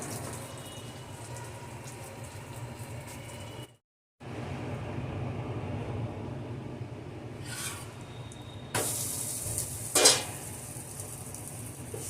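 Broken wheat adai batter cooking in oil on a hot pan gives a steady close sizzle with a soft scraping texture, a brief silent gap, then brighter hissing and a sharp clink near the end.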